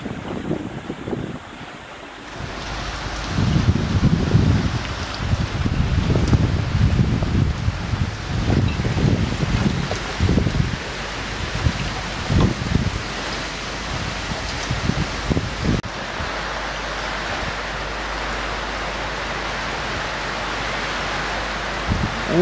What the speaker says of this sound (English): Whole heap of rain and breeze.